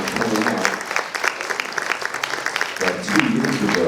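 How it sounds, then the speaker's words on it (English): Audience at a school board candidates' meeting breaks into sustained applause, a steady dense clatter of many hands lasting the whole stretch, with some voices mixed in underneath. "I think a round of applause is probably in order"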